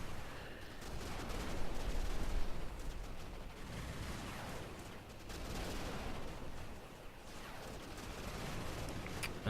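Distant rumbling explosions and crackling gunfire roll through a dense, noisy battle din in a real-time strategy match, as light drones take out choppers, coming in waves with no talking.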